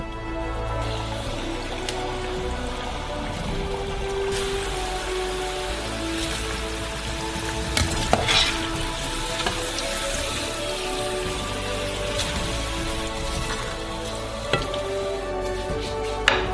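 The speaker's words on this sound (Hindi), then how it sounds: "3 मिनट तक तलेंगे।" Food fries steadily in a hot pan for about three minutes' worth of cooking, a continuous dense sizzle and crackle with a few sharper pops, close and fairly loud, no talking.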